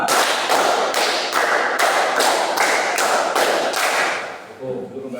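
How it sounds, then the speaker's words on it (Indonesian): A group claps out a counted hand-clapping exercise in a teacher's classroom demonstration, each clap sharp and evenly spaced in a steady fast rhythm of about two per second, close and loud, with a voice near the end. "tepuk 3, tepuk 4, tepuk 5, 2 kali tepuk 5."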